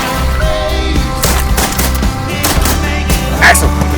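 Several loud shotgun blasts crack in close succession during a goose hunt in the field, with hunters' voices in the background.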